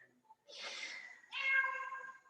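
A cat meows indoors: two drawn-out meows in quick succession, close and fairly clear against a quiet background.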